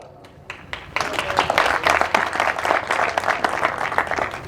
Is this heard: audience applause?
yes